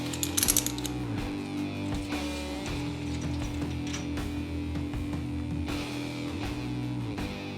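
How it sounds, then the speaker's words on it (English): A hand thread tap being run into bolt holes on the engine accessory mounts of a 1970 Mustang Fastback, a series of close, quiet ratcheting clicks and metallic scraping in an irregular rhythm. "Gonna run the tap down in these holes, the power steering side and the alternator side."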